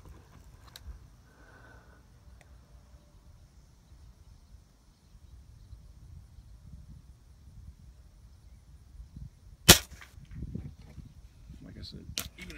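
A .177 caliber air rifle fired from a picnic table outdoors at an adult fidget spinner target, giving one sharp, loud pop near the end and a fainter snap after it over low background rumble.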